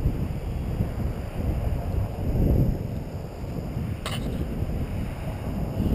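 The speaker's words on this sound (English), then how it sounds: "Bit of a breeze" Outdoor breeze buffets the microphone in a continuous low, rumbling roar that swells and eases, with a brief faint click partway through.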